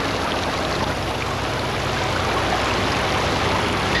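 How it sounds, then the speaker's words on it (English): Sprinklers spray water on AT&T Western Electric aerial terminals at an outdoor test lab. The result is a steady, loud, broadband hiss and patter of falling water that holds constant throughout, with no talking. "Sprinklers subject AT&T Western Electric aerial terminals to years worth of precipitation in a matter of weeks."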